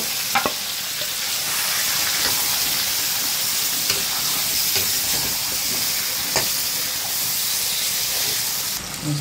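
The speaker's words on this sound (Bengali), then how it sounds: "মাংসটা আমি ভালো করে কষাই নিচ্ছি" Marinated chicken sears with fried onions in a hot pan for a bhuna. A loud, dense, continuous sizzle and steamy hiss fill the sound up close, with a few faint stirring knocks underneath.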